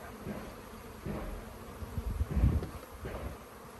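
Honey bees swarm around an opened, crowded hive during a hive split, making a close, wavering buzz that swells and fades with faint rustling of handling.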